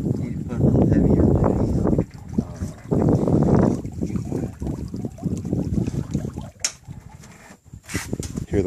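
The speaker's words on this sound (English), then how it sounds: "Hear the water riffling behind us?" Water riffles behind a slow-moving pontoon boat rigged with a sail: a low, rushing wash that rises and falls with gusts of wind, with brief gaps and a few faint higher sounds near the end.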